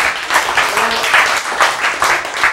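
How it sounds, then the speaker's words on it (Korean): Applause from a church congregation after the preacher asks them to clap, a steady, dense patter of many hands lasting a few seconds with slight swells. "박수 치세요. 박수."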